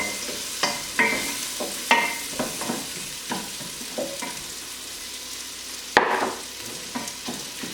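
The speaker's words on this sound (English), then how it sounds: "I'm going to add my onions first. I'm going to get those onions going." Onions for squash soup sizzle in a pot as they start to caramelize, with repeated sharp scraping stirs every second or so over a steady frying hiss, close and alone without speech.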